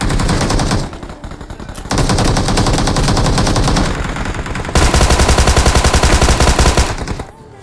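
Relentless bursts of rapid automatic gunfire in the mobile video game BGMI (PUBG Mobile), loud and close, with only brief gaps between sprays.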